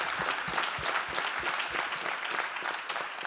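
A crowd of nearly 200 people clapping at a company quarterly meeting in a theatre, a brisk, continuous round of applause throughout the short moment, moderately loud and without speech.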